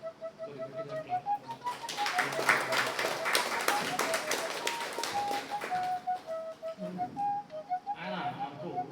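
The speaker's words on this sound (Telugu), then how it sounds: "బ్రహ్మర్షి పితామహ పత్రిజీ గారికి గట్టిగా క్లాప్స్" Loud clapping from a meditation gathering audience for Brahmarshi Patriji, a dense burst of applause swelling then tapering, with a sustained tone and some voices underneath.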